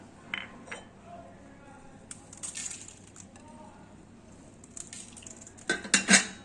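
Puffed rice is tossed with spices, oil, lemon and paneer in a bowl, making scattered rustles and light clinks of a spoon against the dish, building to louder scraping bursts at the end.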